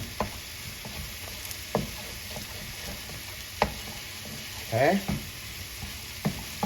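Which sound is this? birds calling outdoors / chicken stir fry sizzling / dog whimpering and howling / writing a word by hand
chicken stir fry sizzling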